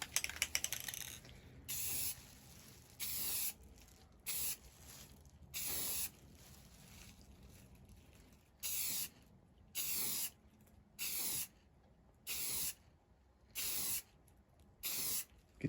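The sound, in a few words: spray painting clear coat on truck door handles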